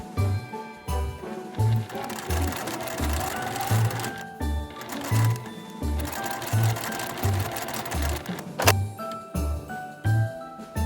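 Sewing machine stitching fabric backed with fusible interfacing in short rhythmic bursts of rapid mechanical thumping, pausing and restarting several times, close and fairly loud.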